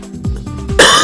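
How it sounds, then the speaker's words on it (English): A man clears his throat once, close to the microphone, with a quick gravelly rasp that ends in a short breathy burst, alone and loud. "I'm gonna always have a glass of water over here, clear my throat."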